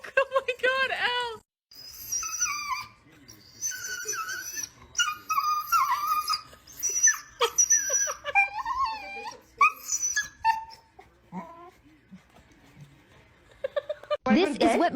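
A dog whimpers and yips at bedtime in a drawn-out run of high, wavering whines and groans, close by, with short pauses between bursts.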